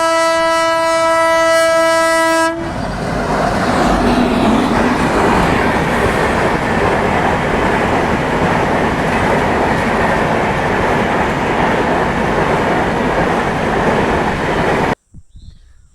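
A passing train dominates throughout: a loud horn blast opens, then the steady rumble and rattle of the railcars rolls by close to the listener before cutting off abruptly near the end.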